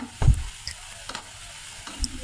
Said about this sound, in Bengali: এগুলো এখন সুন্দর করে ভেজে নিতে হবে